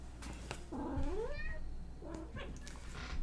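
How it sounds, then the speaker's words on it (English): Tinker, a pet cat, gives a drawn-out rising meow at moderate distance, followed by a softer, shorter second call amid quiet room noise. "Now he wants to meow in the background."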